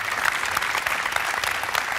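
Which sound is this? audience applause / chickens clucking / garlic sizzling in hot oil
audience applause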